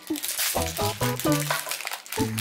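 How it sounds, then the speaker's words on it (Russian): A plastic packet holding an LOL Surprise Num Noms Twozies toy is torn open, giving close crinkling and rustling beneath someone speaking. "Давай мне второй пакетик, я и второй открою, пока ты будешь доставать из первого."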